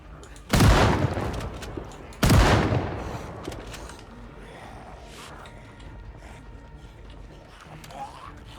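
Two loud, close gunshot bursts from weapons in the zombie survival game Project Zomboid, each with a sharp onset and a lingering tail, followed by quieter ambient game sounds.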